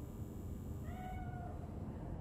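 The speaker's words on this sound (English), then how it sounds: "Hi, kitty cat!" A cat meows once in the video game Cyberpunk 2077, a clear rising and falling call heard close up over a steady ambient game background.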